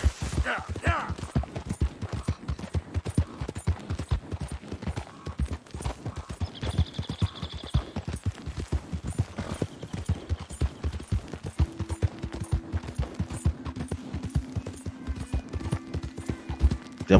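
Steady clip-clop of horse hooves in Red Dead Redemption 2, a quick even trotting rhythm running the whole way through, fairly close, with brief game sound effects and a low tone layered over it.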